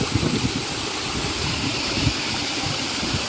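Chitrey waterfall in Kalimpong gives off a steady, close rushing roar of falling water, broad and continuous with no voices over it.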